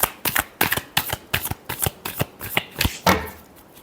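Tarot cards are shuffled by hand in about a dozen quick, crisp riffling bursts, close and clear, each a short papery flutter in an uneven rhythm with no talking.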